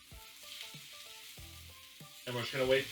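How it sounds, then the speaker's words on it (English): Beyond Meat sausage browns in a pan with caramelized balsamic onions, a quiet steady sizzle that swells into louder crackling frying near the end, while a low tonal background hum runs beneath. "we're just going to wait for our sausage to finish browning"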